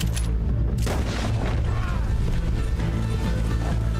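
Rapid volcanic pistol gunshots in Red Dead Redemption 2, several loud booming reports in quick succession over dense game noise.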